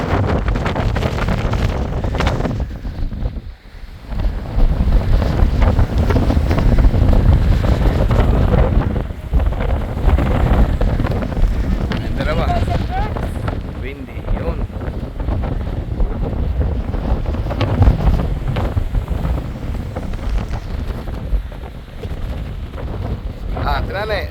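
Strong wind on a mountain peak in Banff, Canada, in fall roars and buffets the microphone continuously, with heavy gusts and a deep rumble, while a person speaks faintly underneath.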